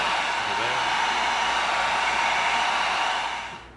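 A heat gun blows steadily while sealing the surface of EVA foam, a continuous loud broadband whoosh that holds for over three seconds before tapering off at the end.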